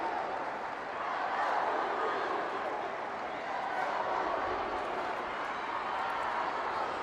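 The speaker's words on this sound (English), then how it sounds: "Union City crowd really getting into this one" Crowd at a Kearny FC versus Union City FC soccer match, producing a steady, dense wash of cheering and murmuring that stays constant throughout, with a commentator talking over it.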